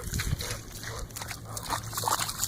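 A dog splashing and sloshing through water after a ball near a boat, with choppy watery splashes and low wet sounds close by, a few brief snuffling or grunting noises mixed in.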